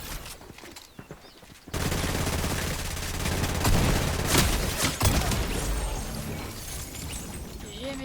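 Shotgun fire in a Fortnite match: after a quieter opening, loud dense gunfire and crashing bursts take over and keep going as a continuous, close battle din.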